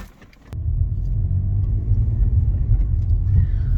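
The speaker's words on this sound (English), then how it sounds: "So let's jump in now and take it for a test drive." A neglected Alfa Romeo Brera 3.2 Q4 with 49,000 miles sets off on a test drive after a faint click, its low engine and road rumble steady and loud from inside the cabin.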